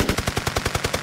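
A recorded 15-round burst of gunfire: rapid, evenly spaced sharp shots in quick succession, each a punchy crack, heard clearly on their own with no voices.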